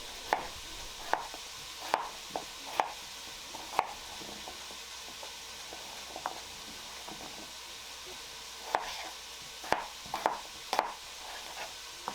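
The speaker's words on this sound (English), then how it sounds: "I'm going to dice up some potatoes, leaving the skin on for all the extra nutrients." Skin-on potatoes being diced with a knife on a board in a home kitchen, sharp scattered chops in small bursts with pauses between, fairly quiet against a steady background hiss.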